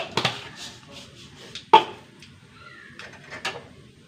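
Mustard seeds spluttering in hot oil in a heated pan, heard as a few sharp, scattered pops and crackles spaced irregularly over a quiet background, one standing out louder near the middle.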